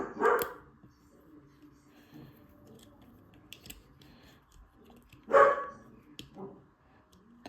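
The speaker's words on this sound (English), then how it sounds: "Dogs aren't very happy about us me parking outside." Dogs bark outdoors in two bursts, one at the start and one just past the middle, set apart and at moderate distance, with quiet background in between.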